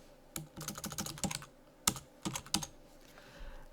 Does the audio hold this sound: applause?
no